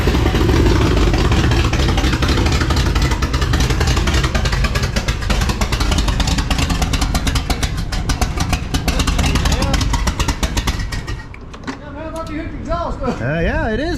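A car engine with an exhaust leak runs loudly with a rough, ticking clatter throughout, under occasional voices, then drops in level near the end.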